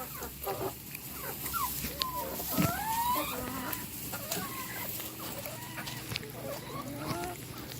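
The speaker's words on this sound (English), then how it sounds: "The chicken's running." Chickens cluck and squawk steadily in a farm chicken coop, with overlapping calls from several birds at moderate distance over a constant background hum.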